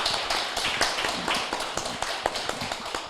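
An audience at a literary talk event applauds with a dense patter of many hands clapping, steady and fairly close throughout.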